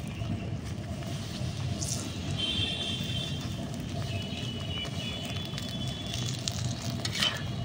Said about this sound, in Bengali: সুজির রুটিটাও আমি উল্টে পাল্টে একটু ভেজে নিচ্ছি। এবার এখানেও আমি উপর থেকে একটু তেল ছড়িয়ে দিচ্ছি।